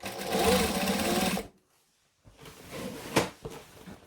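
A sewing machine stitches an ironing board cover in two loud, close bursts of rapid mechanical whirring, split by a short silent pause, with no talk.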